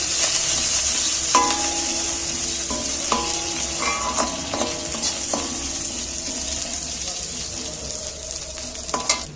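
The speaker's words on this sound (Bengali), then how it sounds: "দুটো কারি পাতা দিয়ে দিচ্ছি। দিয়ে তেলের মধ্যে আমি একটু নাড়াচাড়া করে নিচ্ছি।" Curry leaves and chopped green chillies stirred in hot oil hiss with a continuous close sizzle, broken by light spoon-and-pan scrapes and taps at irregular intervals; no speech.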